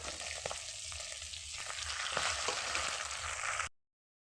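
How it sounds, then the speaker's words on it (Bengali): Oily fish frying in a pan of hot oil, a steady close hiss and sizzle that runs on without a break, with faint clinks of stirring. "আমার মাছটা ভাজা হয়ে গেছে, এবারে আমি তুলে নেব মাছ।"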